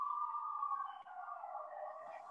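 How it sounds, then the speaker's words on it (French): Emergency sirens wail somewhere in a neighbourhood, a single sustained tone that wavers and slowly dips, faint and distant with no voices. "Il y a des sirènes dans certains quartiers."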